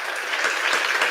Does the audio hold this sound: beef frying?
no